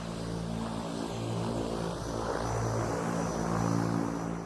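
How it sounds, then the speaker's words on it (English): Propeller plane of the small Cessna type flying by, a steady broadband drone with a low engine hum that swells slightly and holds throughout at moderate distance, no talking. "This kind of sounds like a Cessna."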